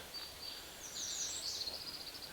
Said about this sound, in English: hearing the birds